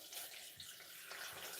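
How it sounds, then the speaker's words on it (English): Water poured from a tap or jug over grated coconut in a bowl while making homemade coconut milk, a soft, steady splashing rush that is faint and close, continuing without pause. "now I'm going to add water"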